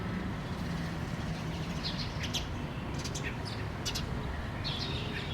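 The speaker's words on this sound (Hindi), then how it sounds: "ये दोस्तों सुबह सुबह स्पैरोज़ फिर से शुरू हो गई हैं।" Sparrows chirp in the morning in scattered short bursts over a steady low rumble of distant traffic, the calls faint and intermittent.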